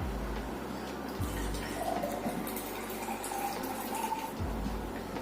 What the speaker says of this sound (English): I'm going to pour this water into the tumbler.